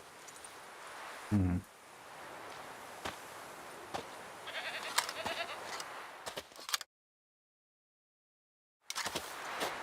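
A goat tied to a stake as forktail bait in the game Witcher 3 gives a short, close bleat early on, followed by rustling and scattered soft clicks, then a stretch of silence.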